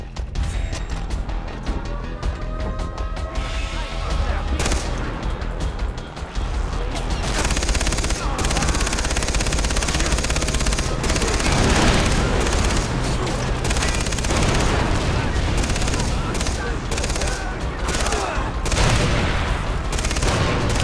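Dense, continuous gunfire and explosions roar through a chaotic Far Cry 3 battle, with bursts of rapid automatic machine gun fire and occasional crashes filling the whole stretch.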